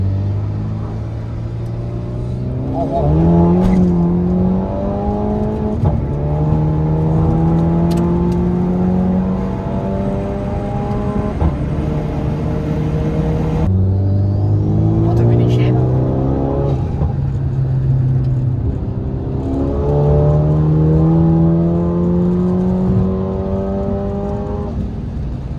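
A Volkswagen Jetta tuned to 350 hp with a new exhaust revs and accelerates on a quiet road, its engine note climbing in long repeated sweeps, loud and close for the whole stretch.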